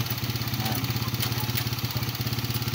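A motorcycle engine idles close by during an oil flush, a steady rapid putter with a mechanical clatter running alone throughout.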